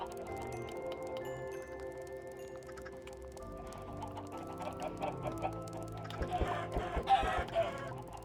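Chickens clucking in Minecraft, with short blocky game clucks sounding over a background of soft tones and clicks.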